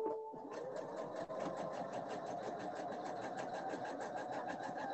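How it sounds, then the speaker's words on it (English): Sewing machine stitching a quarter inch either side of the line on half square triangle quilt pieces, a steady fast rhythmic whir running continuously and close throughout. "I'm going to sew 1/4 inch on either side of that line"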